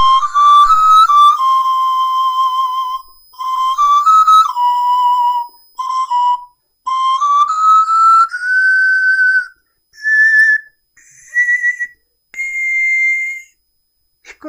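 Pan flute lesson on vibrato: a high, breathy pan flute plays a run of sustained notes with gliding, bent pitch, rising toward a high C in separate phrases, close and alone with no talking.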